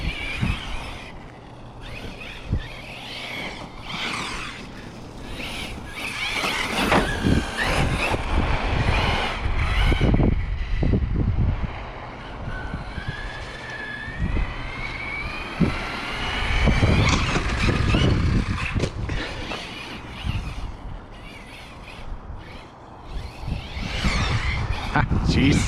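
A Team Corally Kagama 6s RC car with a Rocket 4282 1780KV motor drives outdoors, its electric motor whining up in short throttle bursts and one long rising rev, with wind buffeting the microphone and someone talking over it.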